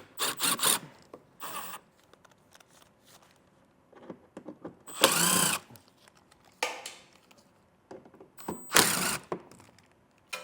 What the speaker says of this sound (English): on the back edge there's going to be 6 T25 torque spit screws. We'll get these all pulled out.